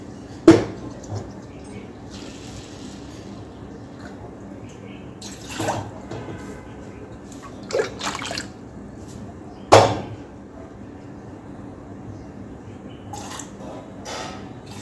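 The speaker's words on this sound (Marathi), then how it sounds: "याला स्वच्छ 2 पाण्याने धुवून घेतलं" Sago pearls being rinsed with clean water in a bowl: sparse splashes and swishes with a few sharper clinks, quiet between, and no voices.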